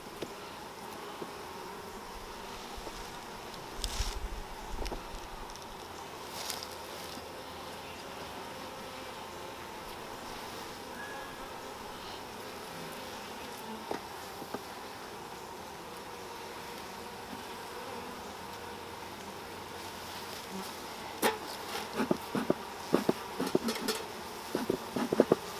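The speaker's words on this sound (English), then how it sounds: "It's going to be interesting getting this out of here without crushing bees." Honey bees buzzing during a hive inspection, a steady close hum of many insects that runs throughout, with occasional brief knocks and handling sounds and busier crackling toward the end.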